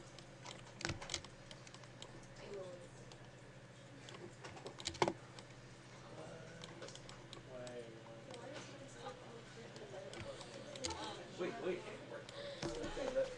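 Computer keyboard typing and mouse clicks at a workstation, a steady run of light, close taps and occasional sharper clicks under a person talking throughout.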